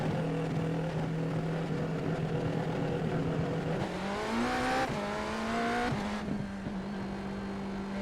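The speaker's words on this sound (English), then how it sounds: "I was just listening to the pit limiter there," A BMW M Hybrid V8 GTP race car engine in a video game, held on the pit limiter at a steady limited drone, its pitch stepping up slightly partway through, loud and continuous with no talking.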